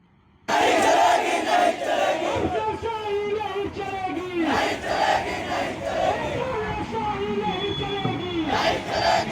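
A large crowd of protesting contract workers and engineers shouts slogans in unison, rising and falling in loud rhythmic chants that continue throughout, close and energetic with many overlapping voices.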